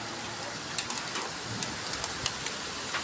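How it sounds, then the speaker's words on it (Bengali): Steady rain with wind during Cyclone Remal in Bangladesh, a dense outdoor wash of falling water with scattered louder drop impacts, no voices. "রেমল প্রচণ্ড বাতাস ও বৃষ্টি"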